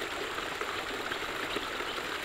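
Water steadily flows and splashes over a backyard pond waterfall water feature in a shaded garden, making a continuous close rushing wash with no pauses and no talking.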